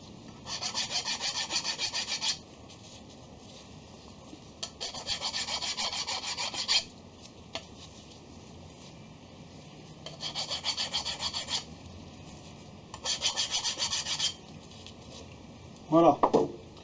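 Hand file rasping burrs off machined steel vise jaws for a milling table, four bursts of steady back-and-forth strokes separated by pauses, close and clear, ending with a short clatter.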